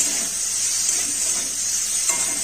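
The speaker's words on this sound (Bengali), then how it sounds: "চিংড়ি মাছগুলোকে ভেজে নেবো" Prawns fry in hot oil in a pan, making a constant bright hiss of sizzling that stays even and close, with no talking.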